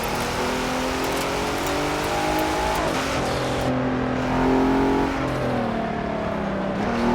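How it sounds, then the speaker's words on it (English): A loud 2020 Hennessy Velociraptor engine drones and accelerates steadily, its pitch climbing and shifting through gears, with no voices over the close, constant roar. "this car is so loud"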